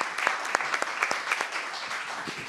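Audience applause at a panel talk on urban greening plans, a thin, scattered round of clapping with distinct individual claps heard fairly close, steady for a couple of seconds.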